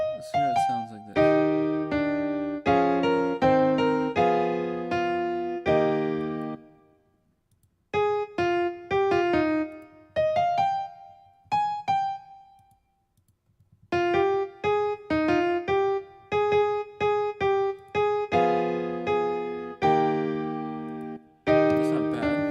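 A liturgy setting in four-part harmony plays back as sustained chordal phrases, moderately loud, separated by short silences between phrases, with no talking.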